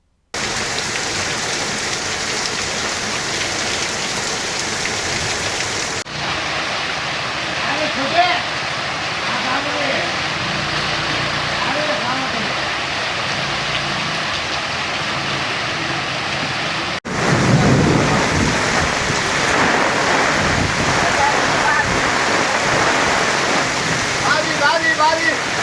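Unseasonal rain pours down steadily in Udayagiri, a loud continuous wash of drops striking surfaces, with abrupt shifts between stretches and a heavier, deeper rumble of thunder and downpour in the final part.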